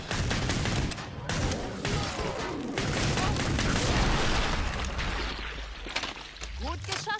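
Dense, continuous gunfire from the shooter game Killing Floor 2, rapid automatic bursts and booms filling the whole stretch at high level, with players talking over the shooting.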